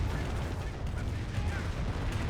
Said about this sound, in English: There's a close range barrage there.